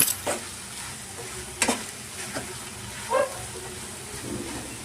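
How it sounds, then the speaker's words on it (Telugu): A spoon stirs okra curry seasoned with salt and chili powder in a pan, giving soft sizzling under scattered scraping clinks of the spoon against the metal, with no talking. "సాల్ట్, కారం వేసాక బాగా కలుపుకోవాలండి ఒకసారి ముక్క పట్టేలాగా"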